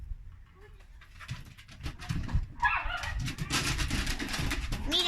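Puppies bark and whimper in short, irregular bursts, somewhat distant from above, mixed with rustling and a faint bird-like chirp.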